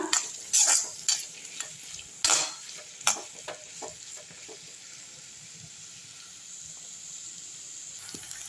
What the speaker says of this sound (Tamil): இதெல்லாம் நல்லா வதங்கட்டும் நல்லா வதக்கி விட்ருங்க